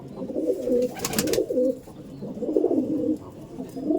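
Old Madras pigeons kept in a loft with single-bird cages coo in close, repeated throaty bursts, with a brief sharp clatter partway through and quiet room noise between calls.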